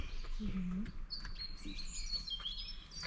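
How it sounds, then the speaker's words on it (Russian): Small birds chirp and tweet with short high calls in a Warsaw park, faint and somewhat distant, while a person talks briefly near the start over soft outdoor background. "Слышите, птички?"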